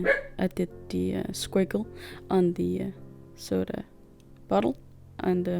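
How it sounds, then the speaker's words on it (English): A pet dog barks in short bursts indoors, its yaps mixed in with someone talking steadily nearby. "I'm sorry about the barking, but she is relentless annoying"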